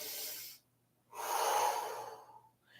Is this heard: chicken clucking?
no